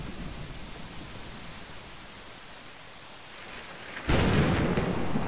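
Heavy rain and a rumbling thunderstorm in the video game Brothers, a steady wash of noise that bursts suddenly louder near the end as thunder cracks in.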